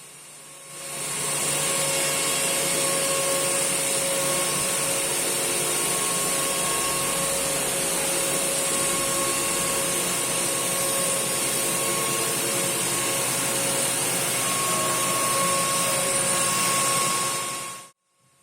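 A QXM interlock circular knitting machine runs with a steady, loud mechanical whir and a high-pitched whine that holds constant for about sixteen seconds before stopping abruptly.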